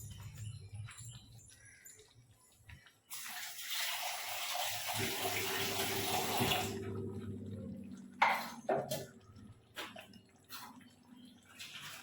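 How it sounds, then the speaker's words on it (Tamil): Water splashes and pours steadily for a few seconds into a mixer jar, followed by clinks and light handling sounds, close by. "இப்போ வந்து நான் அரைச்ச மிக்ஸி ஜார் இருக்குல்ல அதில் தண்ணி ஊற்றி நான் கலக்கி எடுத்து ஊற்றிக்கிறேன்"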